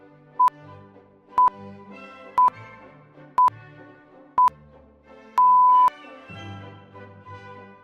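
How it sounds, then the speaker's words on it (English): The BBC radio time signal from the Greenwich Royal Observatory sounds as six pips: five short evenly spaced beeps one second apart, then a longer final pip, clear over faint background music. "the famous 6 pips, which beep in the seconds leading up to the hour"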